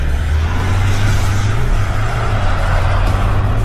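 Several new pickup trucks launching off the line together in a drag race, including a Toyota Hilux, an Isuzu and a VW Amarok, give a loud, steady engine roar that stays strong throughout with no talk.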